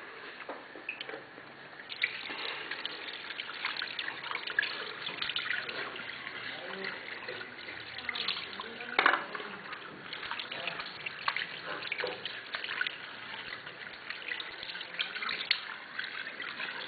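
A tap runs steadily at a sink while someone washes their hands and mouth, a continuous splashing stream with a few louder spatters, moderately close, with brief talk nearby.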